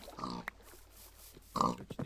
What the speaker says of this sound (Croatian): Evo još svinju.